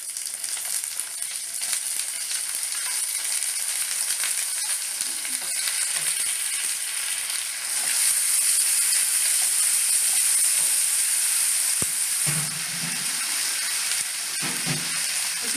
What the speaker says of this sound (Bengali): আদা আর রসুন বাটাটা দিয়ে দিলাম।